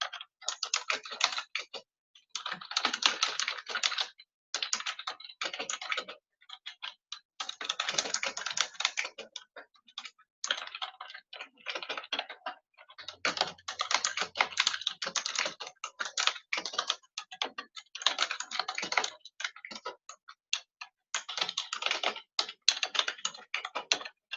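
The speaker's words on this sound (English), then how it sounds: "sorry for the noisy keyboard." Rapid clacking of computer keys in uneven bursts with brief pauses, close up and fairly crisp, no voices.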